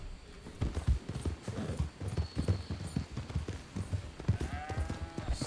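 Steady clip-clop of horse hooves at a slow walking pace in Red Dead Redemption 2, with soft ambient background and a faint whinny-like tone near the end.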